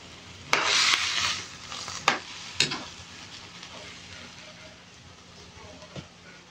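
A second portion of coconut milk is added to vegetables simmering in a pot of Filipino ginataang gulay. A few sharp utensil clinks ring out over a soft bubbling hiss that gradually quiets.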